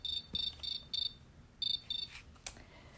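Close, clear cricket chirping in short bursts of high trilling pulses, several in a quick irregular rhythm, alone with no talk over it.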